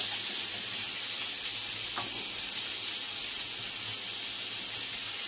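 Snake gourd sizzles in a hot pan with a constant hiss, and a single brief knock of a stirring utensil partway through.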